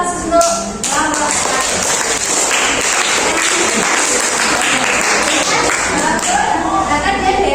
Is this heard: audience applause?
yes